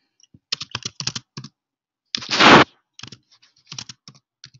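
Rapid bursts of keystrokes on a computer keyboard typing a search term, followed by a louder noise burst and more typing, close and without speech.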